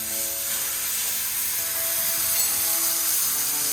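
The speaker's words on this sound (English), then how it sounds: "We're going to flip our steak and toss our butter in to begin basting it." A steak sizzling in a hot pan as butter is added for basting, a continuous bright hiss and crackle, loud and close, with no talking.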